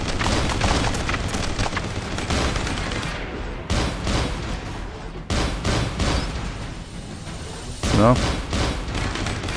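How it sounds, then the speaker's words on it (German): Shotgun blasts in the Robocop 2014 game ring out as repeated heavy booming shots, loud and close, spaced irregularly with one sharp burst late on, while someone talks over the gunfire. "Also die Schrotflinte gefällt mir immer noch nicht so gut."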